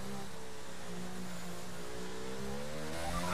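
A race car engine revs and holds a steady high drone in a PS5 racing game at a Netherlands circuit, loud and close with no talk.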